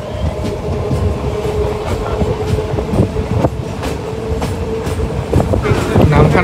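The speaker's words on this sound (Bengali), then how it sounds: "একটা 4 নাগাদ ট্রেন এসে দাঁড়িয়েছে নামখানাতে" A train pulling into Namkhana station, loud and close, with continuous rumbling wheels, rhythmic clicks over rail joints and a faint squeal toward the end.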